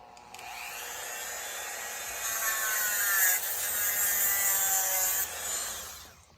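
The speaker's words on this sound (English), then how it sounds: "All I'm going to do is use my Dremel here, cut this little piece off." A Dremel rotary tool cuts a small piece off a John Deere part, a high, steady whining grind with shifting pitch as the disc bites, lasting about six seconds and trailing off at the end.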